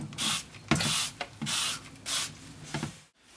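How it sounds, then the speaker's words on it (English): Chemical cleaner sprayed from a trigger bottle onto a greasy cooker top with its knobs removed, in five short hissing bursts at an even rhythm, loud and close with no voices. "When you're pre-treating and you're spraying the chemical, make sure you cover the jets with your fingers."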